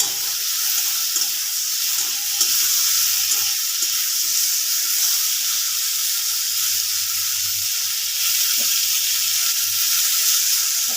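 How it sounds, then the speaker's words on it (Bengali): Vegetables for a potol paneer paste frying in a pan, a constant bright sizzle with occasional low stirring bumps and scrapes, steady and close with no talk. "এগুলো আমি ভালো করে ভেজে নিয়ে মিক্সিতে পেস্ট করে নেব।"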